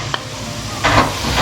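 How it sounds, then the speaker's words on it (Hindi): Onions drop into hot oil in a pan for fried rice, setting off a sudden loud sizzle that swells and keeps crackling close by. "अब हम प्याज डालेंगे"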